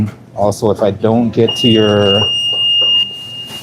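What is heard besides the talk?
kitchen timer beeping in a work kitchen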